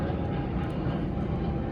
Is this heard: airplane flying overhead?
yes